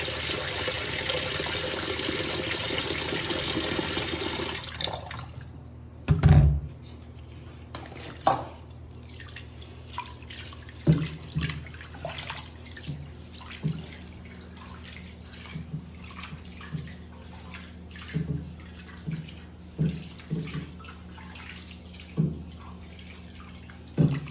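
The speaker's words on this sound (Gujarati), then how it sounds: "2 પાણીએ ધોઈ લેવાનું છે" Tap water pours for about five seconds, then scattered splashes, drips and stirring sounds follow as soaked rice and lentils are rinsed a second time in a large vessel for dhokla batter.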